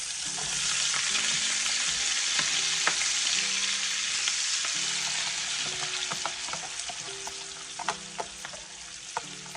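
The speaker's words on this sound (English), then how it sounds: "So now I am getting it fried" Parrot fish deep frying in hot oil in a Jamaican home kitchen, a steady close bubbling sizzle with occasional sharp pops and crackles throughout, no voices.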